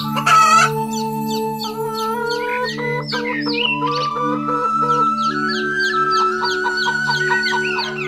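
A rooster crows loudly up close, followed by clucking and more drawn-out calls over a steady musical backing.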